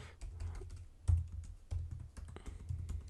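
Quick clicking keystrokes on a computer keyboard, close and fairly quiet, in short irregular bursts with a few louder taps.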